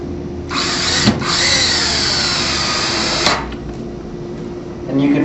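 Power drill driving a screw into a bullnose Z-frame of Norman shutters, a loud whirring burst lasting a few seconds with brief spikes as the screw seats, followed by a quieter tail.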